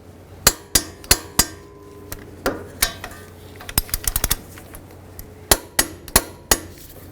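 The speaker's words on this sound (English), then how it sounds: "Let's torque this to" A wrench tightens the front hub nut on a Dodge Journey during a wheel bearing and hub assembly replacement, making a series of sharp metallic clicks and knocks, spaced irregularly with a quick cluster in the middle.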